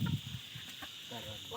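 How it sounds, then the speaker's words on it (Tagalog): Rhode Island chickens on a farm give a few soft clucks near the start, then fainter calls over a steady hiss of crickets or insects outdoors. "Aking mga manok dito sa bukid."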